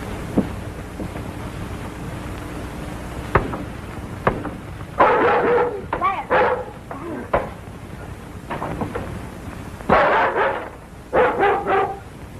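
A dog barks in a western-film scene: a few sharp isolated barks early on, then clustered bursts of loud barking midway and again near the end, over a rumbling, noisy background.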